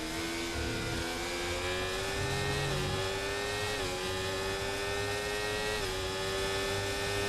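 Formula 1 race car engine in the F1 24 game at the Bahrain GP, a steady high-pitched whine held close and loud throughout, with brief dips and pitch drops between gear shifts.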